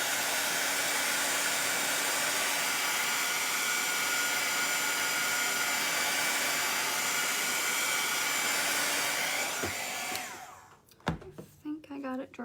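A hair dryer blows steadily and loudly on wet black paint on a Santa Claus figure, holding a constant whine for about ten seconds before switching off and spinning down, followed by faint handling noises.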